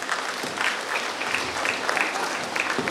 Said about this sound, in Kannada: ನೀವೆಲ್ಲ ಚಪ್ಪಾಳೆ ಹೊಡಿಬೇಕು, ಅವರಿಗೆ ಹೂಗುಚ್ಛ ಕೊಟ್ಟು ಬರ್ಮಾಡ್ಕೋಬೇಕು